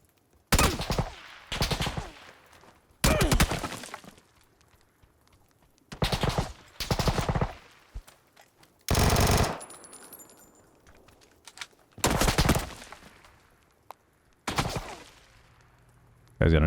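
Submachine gun fire in the video game PUBG, heard as several loud bursts of rapid shots separated by short pauses, close and harsh, with a player's voice talking between the volleys.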